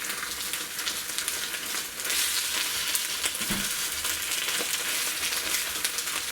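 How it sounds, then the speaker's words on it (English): Spinach baqoola with lemon and olives is stirred in a hot pan, a continuous close hiss of frying with soft scraping and a low thump partway through. "I'm going to mix it now."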